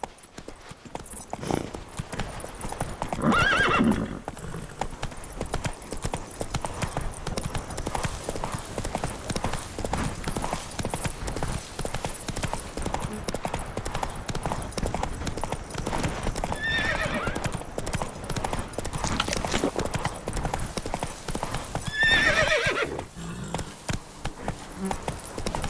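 A horse gallops in The Witcher 3: Blood and Wine, its hooves clip-clopping continuously over the ground. A few whinnies stand out along the way.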